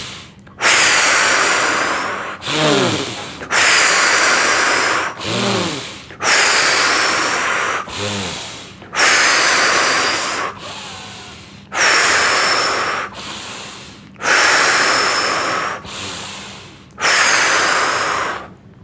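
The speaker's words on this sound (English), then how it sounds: "you inhale and exhale from the mouth deeply" Deep breaths drawn in and pushed out through the mouth during a gentle chair yoga exercise for older adults, repeated about seven times in a steady, loud, close rhythm with no talking.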